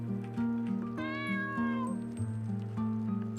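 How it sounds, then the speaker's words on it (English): A cat in an RPG Maker game meows clearly, a drawn-out mew rising over a looping melodic background tune, near and distinct. "And comes the cat."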